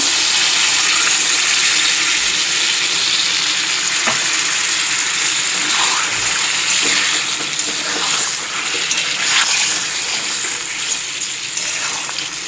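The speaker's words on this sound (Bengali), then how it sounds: "আর একটু সামান্য জল দিয়ে দিলাম।" Water from the ground spice paste goes into frying egg curry masala, and the pan answers with a loud, bubbling hiss that settles into a steady sizzle with small splashes.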